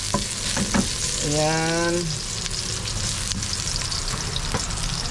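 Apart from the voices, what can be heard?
ginger being stir-fried in a pan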